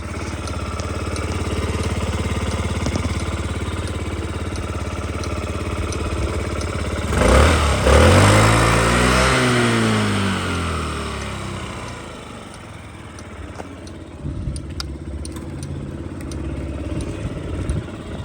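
A Yamaha Gear 4T fuel-injected scooter engine idles with a steady, close putter. A rev rises and falls briefly partway through, then the engine settles back to an even idle.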